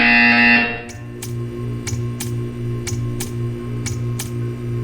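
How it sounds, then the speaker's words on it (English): A series of short, sharp buzzer bursts in Portal 2 repeats at a steady pace over a constant low electronic hum, loud and close. "You will hear a buzzer."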